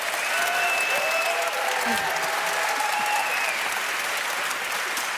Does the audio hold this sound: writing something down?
no